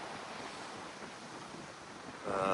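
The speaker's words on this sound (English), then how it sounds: "Pretty heavy seas." Heavy seas rush and roar around a sailboat running deep downwind under reefed jib and jigger in gusty wind, a steady dense wash of surf and wind noise with a louder surge of water at the end.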